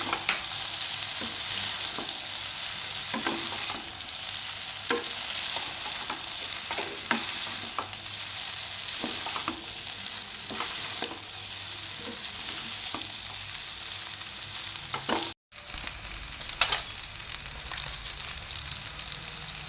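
Boiled pasta stirred around a pan, a steady soft scraping and clatter with a light sizzle underneath, interrupted by a brief cut near the end before the stirring resumes.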